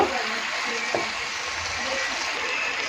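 Taro stolons stir-fried in a pan with mustard and green chilli paste give off a steady broad sizzle with faint stirring clinks.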